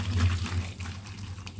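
Water from a pot of boiled potatoes pours off through a strainer as a steady, soft rushing stream, fairly quiet and unbroken.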